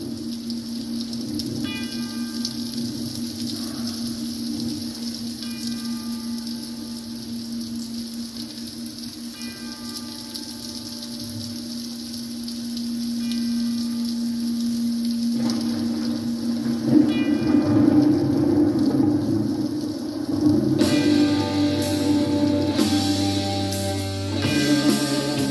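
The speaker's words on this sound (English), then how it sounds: "Upon spinning this record, you get the sound of rain, thunder, church bells to start off the intro to the first song" Rain opens the intro of a song, played from a vinyl record: a steady hiss of falling rain with a low drone throughout, growing louder and fuller in the final seconds.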